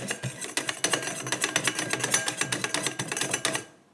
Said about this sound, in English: Here is all of the dry ingredients, and now we're just mixing it up.